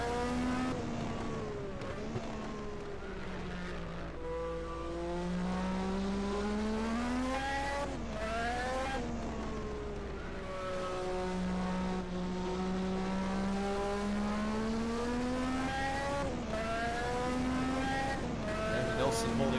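1986 Formula 1 race cars, a Ford-powered car and a TAG-powered McLaren, screaming through gear changes with high engine whine rising and falling repeatedly under steady commentary.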